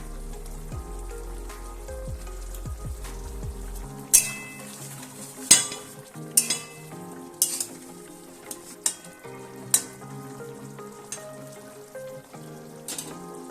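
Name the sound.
cauliflower roast curry bubbling in pan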